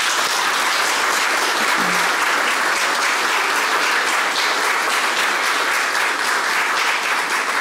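Steady applause fills a council chamber during a session honoring a woman, dense and even clapping from the audience for the full stretch with no voices.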